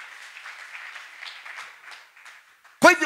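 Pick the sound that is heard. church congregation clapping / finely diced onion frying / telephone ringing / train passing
church congregation clapping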